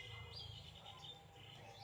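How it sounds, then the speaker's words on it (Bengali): Birds call and chirp in the morning outdoors, a steady layer of soft twittering at moderate distance over a low background hum, with no talking. "সকাল সকাল কত সুন্দর চারিপাশে পাখির আওয়াজ হচ্ছে"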